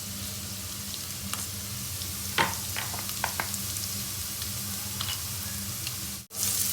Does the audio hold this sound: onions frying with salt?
yes